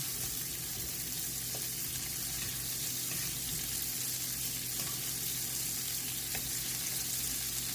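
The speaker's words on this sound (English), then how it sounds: "I'm just using a regular frying pan." Steady, soft sizzling of shrimp frying in a regular frying pan, a continuous hiss with occasional faint clicks, no talking.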